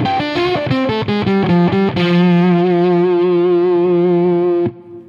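An electric guitar through an Octavia pedal on the neck pickup runs a quick distorted phrase into a long sustained octave-fuzz note that rings loud and alone before cutting off.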